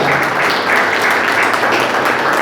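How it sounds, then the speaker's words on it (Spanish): A church congregation applauds for the Lord during a sermon, a continuous loud roar of clapping with a few voices mixed in, sustained throughout. "Denle ese aplauso fuerte al Señor."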